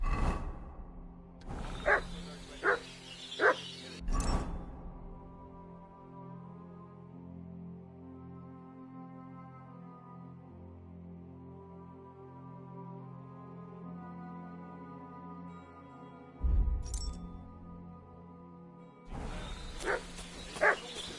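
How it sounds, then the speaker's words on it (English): A dog barks in several sharp bursts in the video game Kingdom Come: Deliverance 2, first loudly near the start and again later, with a low sustained musical drone in between. "What's that dog making such a fuss about?"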